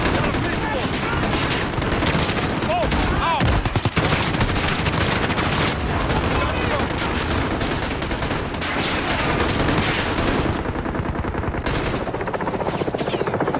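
Sustained machine gun fire in the Call of Duty Modern Warfare video game, loud, dense and continuous bursts with scattered shot impacts filling the whole stretch, a brief lull near the end before firing resumes.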